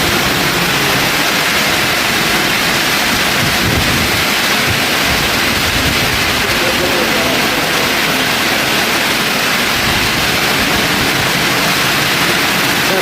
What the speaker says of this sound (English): It's coming like a storm